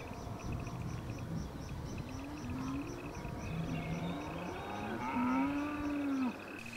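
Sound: cattle mooing

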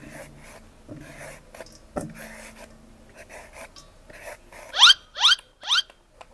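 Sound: scraping ingredient into strands for som tam

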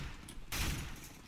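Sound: gunfire in video game CS:GO jailbreak

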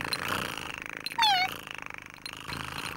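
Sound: ship's cat meowing and purring

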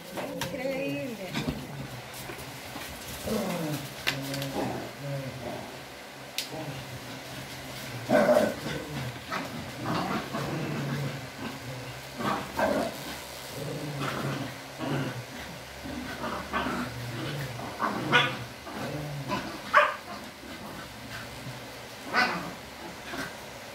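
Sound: small dogs playing, whimpering and barking

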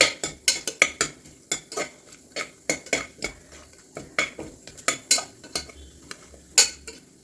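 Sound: stirring cashew nuts into a cooking pan

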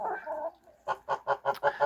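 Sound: chickens clucking

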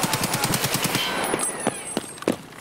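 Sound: gunfire in Escape From Tarkov video game

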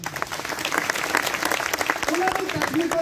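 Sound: applause for the team that held the meetings

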